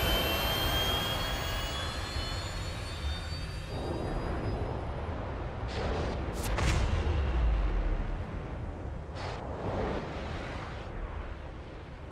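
A spaceship engine in the game Star Citizen roars during takeoff, a sustained jet-like rush with a whining high tone fading early and a few sharp bursts and a deeper swell midway.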